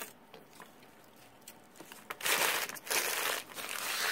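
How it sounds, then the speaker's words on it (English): Paper being crumpled into balls for a mask armature, in rustling crinkly bursts that build from soft early crackles to denser, louder crumpling in the second half, with no talk. "So I just kind of crumple some balls"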